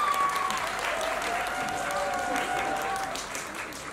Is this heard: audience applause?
yes